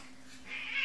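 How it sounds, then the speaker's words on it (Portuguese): A cat gives a drawn-out meow that rises in strength toward the end, fairly close and alone against a faint low hum. "Mateus, deixa os gatos, eles se entendem"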